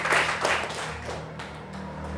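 Students in a classroom clap their hands in a short, uneven burst that is loudest at the start, then fades into scattered taps over a low room hum.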